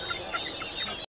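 Chickens, including silkie hens, clucking at a poultry market, a dense cluster of short clucks over a constant crowd murmur, moderately close, with no clear speech.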